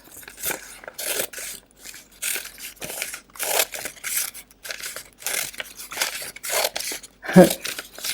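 Scissors cut a wide paper strip in half in a series of close, crisp snips and rustles. The paper crinkles between the regular cutting strokes, and no voices are heard.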